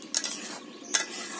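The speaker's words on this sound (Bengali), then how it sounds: "এভাবে নেড়ে ছেড়ে ডালগুলো কষিয়ে দিব।" Lentils frying in hot spiced oil give off a steady, close sizzle, broken by two sharp scraping strokes of a spoon stirring the pan, one near the start and one about a second later.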